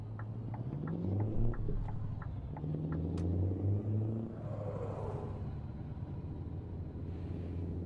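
A Scania R440 truck engine in Euro Truck Simulator 2 rumbles low and steady, revving briefly at the start before settling into a smooth idle hum, close and alone.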